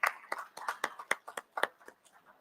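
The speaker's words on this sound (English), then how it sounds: "A bigger round of applause for the moderator, please." Applause from the audience for the moderator as a panel session on antimicrobial resistance closes: a thin scattering of distinct handclaps, a dozen or so uneven claps fading out, fairly quiet and unaccompanied by voices.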